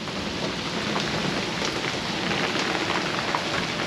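Heavy rain pours during a storm at sea on a Leopard 45 sailing catamaran on passage from the Bahamas to Puerto Rico. The roar is loud, continuous and dense, with scattered sharper drops hitting the boat.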